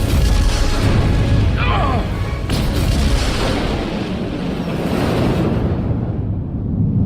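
A detonation blasts a ship free in the Star Trek Resurgence video game: a loud, sustained roaring rumble that fills the whole stretch, its upper hiss thinning away toward the end.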